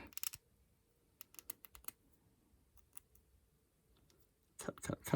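Cutters snipping support material away from a 3D-printed front section, giving quiet, scattered sharp clicks, with a denser burst of snips at the very end.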